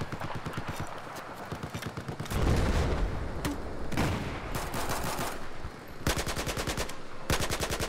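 Automatic weapon fire in Battlefield 4 rattles in rapid, evenly spaced bursts, loud and near, broken by a louder blast and denser mixed battle noise in between.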